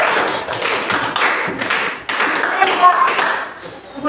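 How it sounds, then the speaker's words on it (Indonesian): Classroom clapping for a student group at a senior high school history lesson, uneven patches of hand claps and taps mixed with chatter and voices, fairly close and continuous for about four seconds. "tepuk tangan dulu untuk kelompok Inggris."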